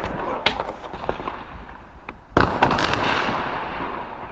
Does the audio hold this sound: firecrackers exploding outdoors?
yes